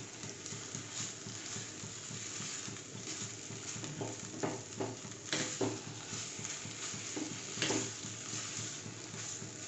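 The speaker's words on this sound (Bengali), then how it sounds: "ভাজাটা খুব ভালো করে ভাজতে হবে, নাহলে কিন্তু কাঁচা পটলের গন্ধ থেকে যাবে।" Pointed gourd (potol) frying in a pan over a raised gas flame gives a low, steady sizzle with scattered soft taps and stirring scrapes, faint and without talk.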